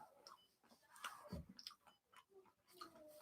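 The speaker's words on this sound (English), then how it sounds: "Tough for me to chew and talk at the same time." Someone chews food close to the microphone, soft wet crunching and squishy bites in an uneven rhythm with quiet pauses, no talk over it.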